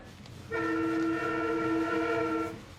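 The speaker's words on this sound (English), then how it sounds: "Each day, 700 trains tear in and out of the terminal." A train horn at Grand Central Terminal sounds one long, steady, loud blast lasting about two seconds over a low rumble of station background noise.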